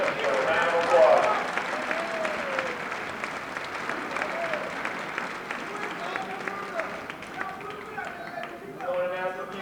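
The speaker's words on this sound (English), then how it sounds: "So a round of applause." Audience applause at a high school boys basketball ceremony, sustained clapping from a crowd in a gym, with voices and calls mixed in and a fresh swell of clapping at the end.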